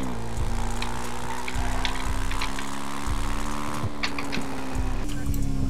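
Small motorbike engine in GTA RP, a buzzing low putter with steady harmonics and periodic bumps, running continuously close up while someone talks over it.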